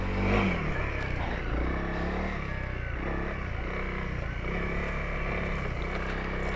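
A Honda CRF 300 L dual-sport motorcycle rides single track in a very low first gear, its engine droning steadily and close with small rises in revs and faint clatter over the trail.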